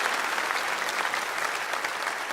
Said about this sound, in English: Can you applaud for them and thank them